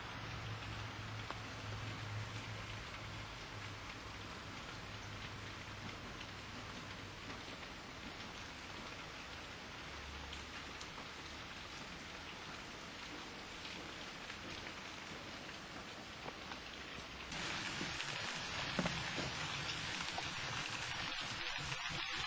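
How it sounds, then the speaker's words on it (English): Steady outdoor rain pattering continuously on surfaces, a dense even hiss that swells slightly louder near the end, with faint low rumbles underneath. "I'm outdoors in the rain practically."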